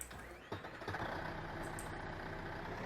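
A small tractor in Farming Simulator hums with a steady, close diesel engine rumble, with a brief clunk near the start and a constant idle-like drone after, with no talking.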